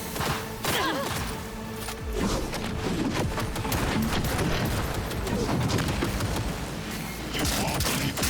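Sustained rapid gunfire in a Cyberpunk 2077 Phantom Liberty firefight, dense overlapping bursts and impacts filling the whole stretch, with brief voices mixed in.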